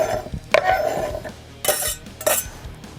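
Diced onion tipped into a pan ahead of a gas grill, with a few metallic clanks and scrapes of a utensil against the pan, close and short.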